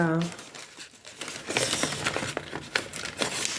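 A paper envelope is unstuck and pulled open by hand for reuse in a scrapbooking craft, heard as close crinkling, rustling and light tearing that runs in irregular bursts after a brief quiet start, with soft talking mixed in.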